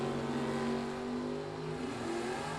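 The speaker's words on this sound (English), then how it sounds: "That is a quick Camaro, 578, 119 miles per hour for Mitch Vincent" Mitch Vincent's Camaro drag car at a bracket racing event accelerating down the strip, a fairly faint, distant engine drone with steady tonal bands that rise slightly in pitch as it pulls away.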